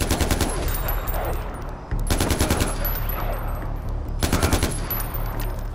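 Sustained automatic gunfire in Far Cry 4, loud rapid bursts in three runs separated by brief breaks, with dense crackling shots throughout.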